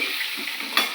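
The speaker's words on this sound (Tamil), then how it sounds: "அதுக்குள்ள பார்த்தீங்கன்னா வெங்காயம் வதக்கி" Onions sautéing in a pan for a Tamil home-cooked meal give a soft, steady sizzle with a brief stirring scrape near the end, close and fairly quiet.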